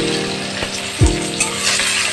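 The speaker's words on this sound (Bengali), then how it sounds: "তো আলুটা ভেজে নিচ্ছি বলবো," Potatoes frying in hot oil, a steady close sizzle with a couple of stirring clinks, and no voices.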